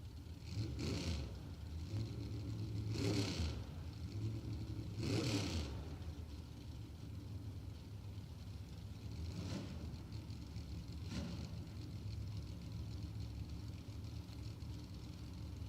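At a doorslammer drag race, a Roadster Mopar and a 1967 Camaro out of Selma rumble at mid distance. Several louder revving bursts break through in the first seconds, then a few fainter blips sound over a steady engine drone.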